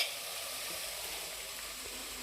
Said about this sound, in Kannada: ತರಕಾರಿ ಮಾತ್ರ ಸ್ವಲ್ಪ ಎಣ್ಣೆ ಫ್ರೈ ಮಾಡ್ಕೋಬೇಕಲ್ಲ